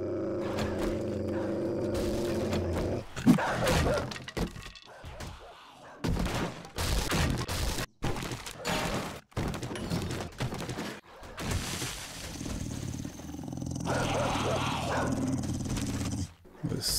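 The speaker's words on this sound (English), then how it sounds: "But certainly that dog sounds like it's getting closer." Dogs barking and growling in the survival video game 7 Days to Die as a dog horde closes in, with bursts of gunfire and game noise mixed in, loud and intermittent over about seventeen seconds.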